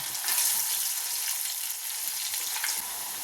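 Pieces of bitter gourd fry in a pan with a continuous, crackling sizzle that stays fairly even throughout, close and alone with no talking.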